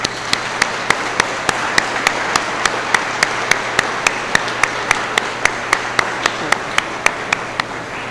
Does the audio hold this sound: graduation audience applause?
yes